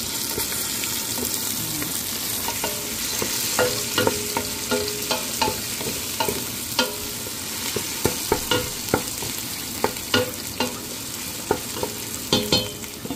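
Pork and sautéed shrimp paste fry in a pan with a continuous sizzle, punctuated by repeated sharp clicks and scrapes of a utensil stirring, growing more frequent toward the end; no talking.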